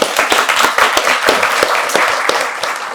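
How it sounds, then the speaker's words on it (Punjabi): A crowd of students at a Punjab institute clapping for a legend, many hands giving dense, loud applause that carries on steadily throughout. "ਸੋ ਜ਼ੋਰ ਦਾ ਤਾੜੀ ਮਾਰੇ ਫਿਰ ਉਸ ਲੈਜੈਂਡ ਲਈ"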